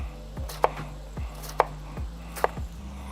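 Knife dicing food on a cutting board while making a patty melt, three sharp, evenly spaced chops ringing out clearly over a low background hum, with no talking.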